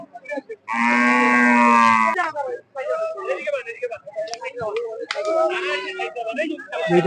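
Cattle at a busy cattle market for the sacrificial festival: one loud, close, drawn-out moo lasting over a second, followed by people talking nearby.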